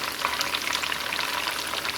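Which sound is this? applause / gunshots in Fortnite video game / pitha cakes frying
pitha cakes frying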